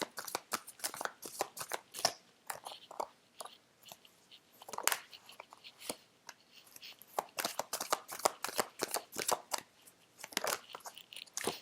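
Tarot cards are shuffled close up in quick, irregular bursts of crisp riffling and snapping, with short pauses between bursts and no talking.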